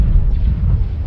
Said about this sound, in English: Some missiles are going off here, I guess.